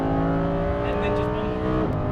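A Lamborghini Huracan Performante engine on a race track holds a steady, sustained tone under light throttle, heard from inside the car, with the pitch dipping slightly toward the end.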